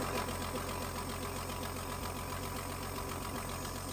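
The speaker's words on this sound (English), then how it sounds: "Look at that idling." A steady engine idle running on its own power, a close, even mechanical chatter with a low rhythmic knock, continuous and unchanging throughout.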